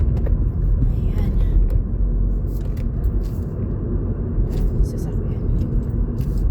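Steady roar of road traffic near roadworks, with cars passing in a continuous low rumble and a faint voice under the noise.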